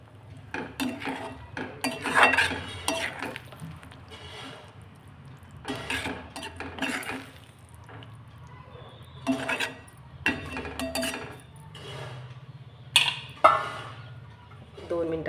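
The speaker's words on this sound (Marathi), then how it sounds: "आता हे मी पूर्ण पनीर ह्याच्यामध्ये घालून घेते, पूर्ण असं मिक्स करून घ्यायचं" A spoon scrapes and clanks against a pan as paneer is mixed into a homemade curry, in irregular bursts of metallic clatter with quiet pauses between them.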